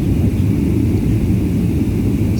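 Steady airliner cabin roar during the descent before landing, a constant low rumble with broadband hiss, no voices or other events.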